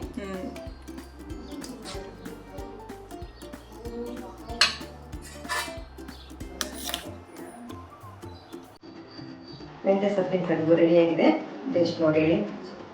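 Cooked methi kadubu, a fenugreek-leaf dumpling dish, being transferred into a bowl, with repeated close metal utensil clinks and scraping, followed by a louder busy clatter near the end, while someone talks throughout.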